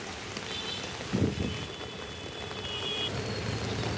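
Heavy rain falls steadily over a Mumbai street where traffic crawls, a dense continuous wash of drops with a brief louder splash or knock near the middle and faint distant vehicle noise beneath.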